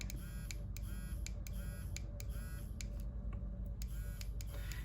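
Dog training e-collar set to vibrate mode gives off a faint, rapid pulsing buzz in short repeated bursts over a steady low hum.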